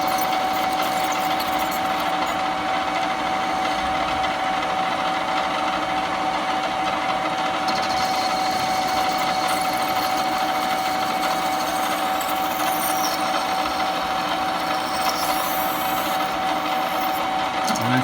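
A centre lathe runs continuously while facing off a workpiece, giving a steady loud motor whine with a constant tonal hum and cutting noise throughout, no talking.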